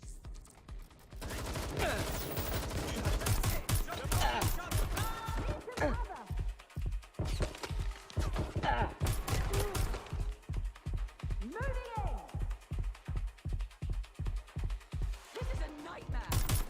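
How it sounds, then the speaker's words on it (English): Gunfire in the video game Watch Dogs Legion, rapid rhythmic bursts of shots firing loud and close for most of the clip, with a voice shouting over the shooting. "Shots fired! Shooting! They shot me!"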